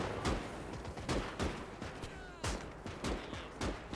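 Machine gun fire in the World War II strategy game Gates of Hell: Ostfront, rapid bursts of sharp reports at close range with a roughly steady rhythm across a few seconds, some overlapping shots, and no talking.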